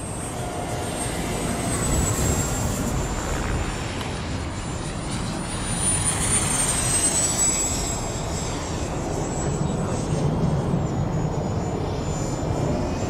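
A Freewing Vulcan RC model jet flying and coming in to land, giving a steady, loud whining engine roar with a thin high whistle, broad rushing wind noise and slow swells in volume throughout.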